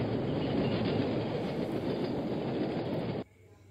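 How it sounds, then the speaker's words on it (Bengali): A train rumbles along railway tracks in a loud, dense, continuous roar with a steady rattle, holding level before cutting off abruptly near the end. "রেল লাইনে ঘড় ঘড় শব্দ উঠছে। ট্রেন সত্যি সত্যি এসে গেল।"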